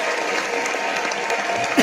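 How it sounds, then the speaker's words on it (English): Audience applause at a talk honoring an artist, a dense continuous wash of clapping from a crowd, steady and fairly loud throughout this short moment. "Let's give that a round of applause."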